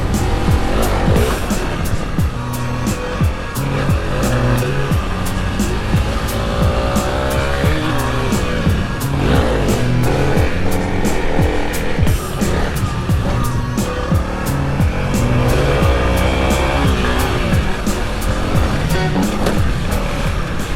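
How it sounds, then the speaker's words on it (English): Dual sport motorcycle skidding and spinning its rear tire, a loud, continuous engine roar with revving surges and rough tire scrub running throughout. "I tried to leave as many drag marks and spin marks as I could"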